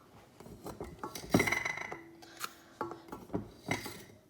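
Sugar being scooped into a bowl of butter for snickerdoodle cookie dough, heard as close scraping and rasping with light clinks of a utensil against the bowl, in irregular bursts with no talking.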